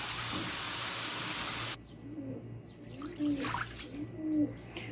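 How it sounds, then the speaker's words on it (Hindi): Milk pours into a lasagna sauce in a loud, steady liquid rush for a couple of seconds, then stops abruptly, leaving a quiet room where a bird coos faintly. "अब 2 कप्स हम इसमें दूध के डालेंगे"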